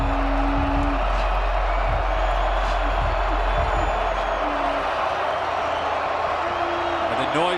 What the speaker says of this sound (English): Noise picking up from this Utah State crowd again.